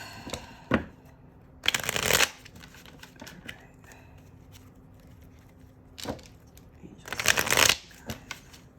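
Tarot cards are shuffled in several quick riffling bursts, two longer flurries and a few short flicks as cards are pulled from the deck, close and crisp against a quiet room.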